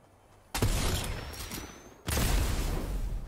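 Two loud gunshot blasts in Fortnite, one at the start and a second about a second and a half later, each followed by a rumbling, echoing tail.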